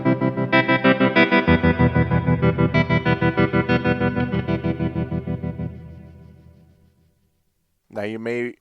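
Meris Mercury X reverb pedal with tremolo set pre plus dry, giving rapidly pulsing, chorus-like swells that stay steady for several seconds, then fade into a decaying tail, followed by a brief voice at the end.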